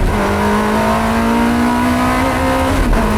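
A Ferrari 360 Modena Challenge race car engine in Forza Motorsport holds a loud, steady high-revving drone that creeps slightly upward in pitch, close and continuous, with no voices.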